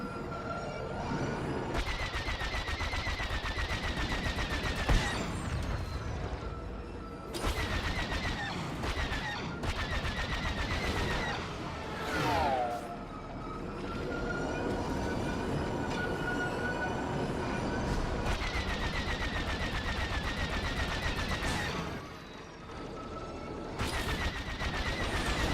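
Rapid bursts of video game gunfire on a spaceship, loud and dense, pounding in stretches across the clip with brief lulls and no talking.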